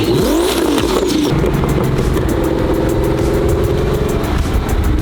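A boosted Lamborghini Huracan's engine revs hard and loud up close, a rising roar at the start that then holds at a steady, rumbling drone while the clutch warms up.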